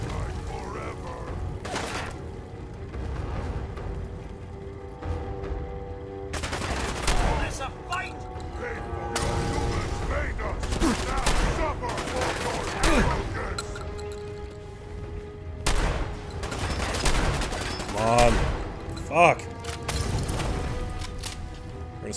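Shotgun and rifle fire in Fallout 4 combat, several sharp bursts spread across the stretch with louder clusters near the end, mixed with game noise and someone talking over it.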